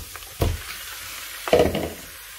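Chicken pieces drop into a hot pan of browned ginger-garlic paste and green chilli, giving two short bursts of sizzling and stirring, fairly close, with no talk.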